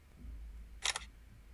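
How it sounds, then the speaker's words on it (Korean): A smartphone camera shutter fires once, photographing an ink stamp impression on white paper: a short, crisp double click standing alone against a quiet room hum. "찰칵 찍습니다."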